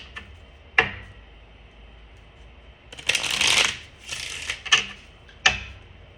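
Tarot cards being shuffled in several quick riffling bursts, close and crisp, with short pauses and a few sharp taps between them.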